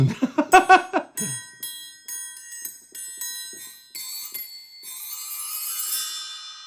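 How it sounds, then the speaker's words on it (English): A short vocal phrase, then a Project SAM Lineage bell tree rings in bright cascading tinkles, several descending runs shimmering and ringing out clearly. "Nice bell tree."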